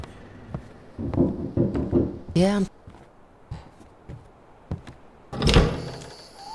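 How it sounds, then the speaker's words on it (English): Knocking at the front door in the horror game Static Dread, a few dull thumps heard among game ambience, followed by a short rising electronic tone and a voice speaking briefly. "Seems like someone is knocking at the front door."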